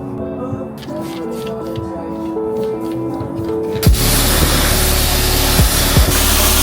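Diluted Alumabrite is sprayed onto aluminum intake parts during a fuel system overhaul, then a pressure washer roars in with a loud, steady broadband hiss that dominates the second half, after quieter handling sounds and voices.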